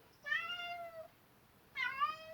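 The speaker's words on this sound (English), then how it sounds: "Come on up here, me little kitten, aren't you? She's crying." A cat meows twice, nearby and fairly loud, with each plaintive cry lasting under a second and separated by a short pause.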